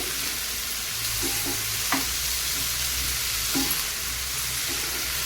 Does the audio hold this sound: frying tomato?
yes